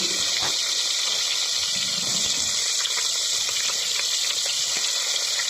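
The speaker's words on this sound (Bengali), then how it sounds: "তেলটা সুন্দর গরম হয়ে গিয়েছে আমরা মাছগুলো দিয়ে নিচ্ছি" Small puti fish hiss and crackle in hot oil in a pan on a clay stove, a steady close sizzle with no talk.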